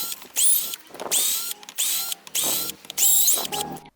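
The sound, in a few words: upgraded 18650 battery cordless screwdriver unscrewing a screw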